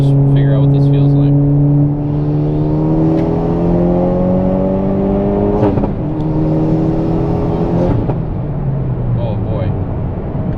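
A stuffed-turbo Hyundai Veloster N revs after a downshift, its engine note climbing steadily toward redline in sweeping rises with a couple of sharp shift breaks, loud and close from inside the cabin.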